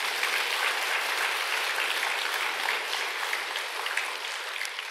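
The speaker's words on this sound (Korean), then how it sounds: "마지막 박수 한번 딱 쳐버리고 있어요." An audience at a Buddhist temple Sunday sermon claps together in steady, sustained applause, a dense even patter filling the whole stretch without voices over it.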